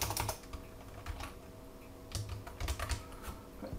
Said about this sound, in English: if I was to go here and start typing, Rachel S